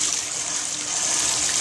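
Tap water rushes steadily over a LUSH Mermaid bath bomb held under the stream, a loud, close, unbroken splashing hiss with no talking.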